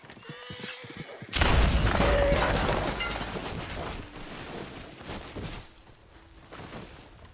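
Dynamite goes off in Red Dead Redemption 2 with a sudden loud boom. A long rumbling, crackling tail fades over several seconds.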